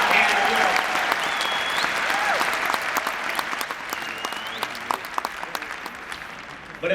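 Audience applause and cheering fill the hall at the 2016 Rock & Roll Hall of Fame induction of NWA, a dense, steady roar of clapping with scattered whistles and shouts that gradually thins toward the end.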